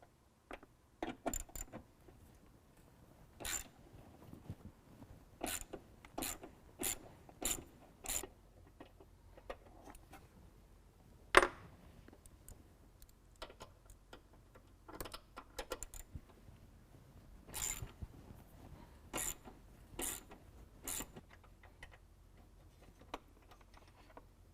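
Two 8mm bolts being taken off the airbox of a 2017 Ford F-250 Powerstroke, heard as sparse, sharp metallic clicks and ticks spread out over a quiet background.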